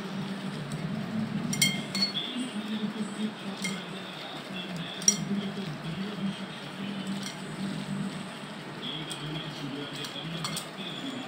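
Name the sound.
mixing kachki fish with mustard oil in a bowl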